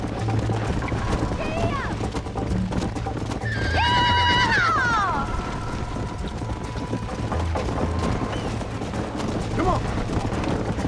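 A horse in the Red Dead Redemption video game whinnies loudly over steady galloping hoofbeats, with faint additional neighs and game sounds beneath.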